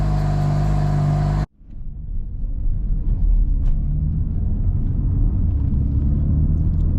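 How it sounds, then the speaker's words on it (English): A BMW M car engine rumbles deep and loud at close range after a sudden cutoff of other sound, with a steady low drone and slight swells. "Damn, my car is loud in here."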